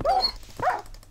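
A Minecraft wolf gives two short barks or yelps, close and fairly loud, with a brief gap between them and no speech over them.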